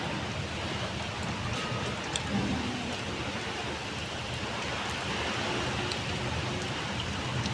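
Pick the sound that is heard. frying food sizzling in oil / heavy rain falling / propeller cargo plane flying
heavy rain falling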